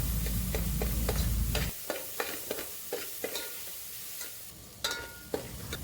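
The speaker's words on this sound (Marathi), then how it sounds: "आता चांगलं मिक्स करून घ्यायचं आहे हे टॉमॅटो मऊ होईपर्यंत" A spoon stirs tomatoes with fenugreek, turmeric and asafoetida in a pan for Punjabi dal khichdi, scraping and clicking in an irregular rhythm at close range after a brief dense sizzling wash at the start.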